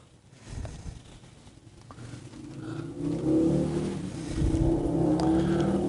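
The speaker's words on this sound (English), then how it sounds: "Sounds like somebody's enjoying their motorcycle." A motorcycle engine passing through a residential neighborhood, heard at a distance as a low thumping drone that swells louder toward the end, with no speech.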